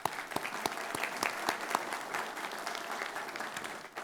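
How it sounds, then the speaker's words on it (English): Applause at an Adams County public hearing for award recipients: a roomful of people clapping, with individual sharp claps standing out near the start, faint and steady throughout. "let's give them a round of applause"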